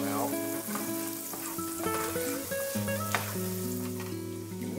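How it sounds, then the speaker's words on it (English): Garlic sautés in butter in a pan for garlic butter roasted chicken, a soft continuous sizzle heard under prominent, steady background music. "We're going to saute that for a little while just until the garlic is translucent and the aroma starts to come out."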